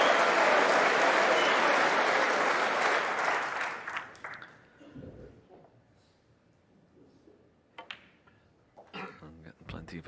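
Snooker crowd at the Masters breaks into loud, dense applause after a shot, lasting several seconds before fading, then scattered claps and murmurs follow.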